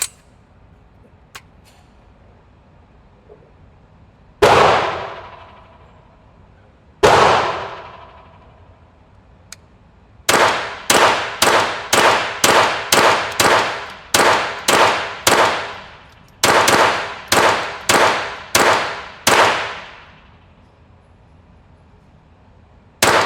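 Sharp .22 rifle shots from a BCA AR-22: two spaced single reports, then two rapid strings of about eight and five shots, each crack loud and close with a short ringing decay.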